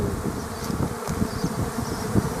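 A honey bee swarm flies near an apiary in Tetiiv, a dense steady buzz of many insects filling the air with no pauses, close and continuous.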